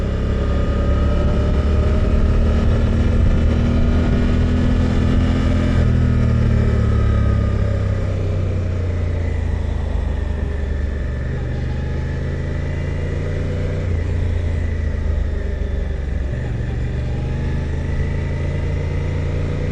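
A Suzuki GSX-8R motorcycle engine drones loudly while riding, with rising and falling revs, gear changes and strong wind rush throughout.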